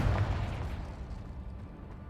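A Confringo blasting spell explodes in Hogwarts Legacy, a faint, muffled boom at the start that rumbles and fades over a couple of seconds.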